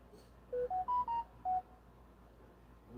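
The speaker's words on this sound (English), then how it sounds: "phone somewhere not set to do not disturb" A phone notification chime: a short melody of five clean electronic tones in quick succession, fairly faint over a low room hum, with no one talking.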